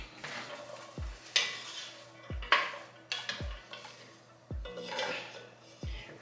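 Carrots and onions sautéing in a pot for Turkish red lentil soup, a steady sizzle broken by repeated spoon stirs and scrapes against the pot roughly every second or so, with no talking.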